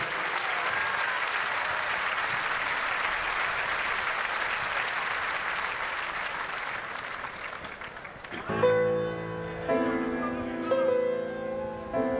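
Applause from a concert audience at a tribute show at the Fête de l'Huma 2010 goes on steadily for about eight seconds. Piano and singing then begin as the clapping fades.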